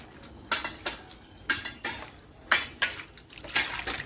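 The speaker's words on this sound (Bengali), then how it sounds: "নুন দিয়ে এরকম করে ধুয়ে নেবেন।" Small mourala fish being scrubbed with salt in a bucket of water, heard as four bursts of wet rubbing and sloshing about a second apart, close by.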